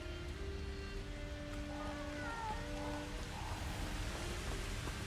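A cat in the video game Hogwarts Legacy gives a few faint, short meows midway through, set against a soft, steady rain-like background hiss and music.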